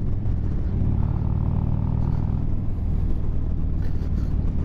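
A 2020 Harley-Davidson Street Glide Special motorcycle on a test ride, its engine a loud, steady deep rumble with a low throbbing note heard up close while cruising.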